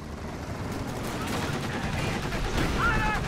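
Gunfire from a Jagdpanzer tank destroyer and anti-aircraft half-tracks in a World War II real-time strategy game, a dense continuous crackle of rapid shots and bursts with a faint high-pitched electronic tone near the end.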